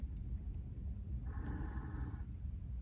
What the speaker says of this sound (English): You're growling at me.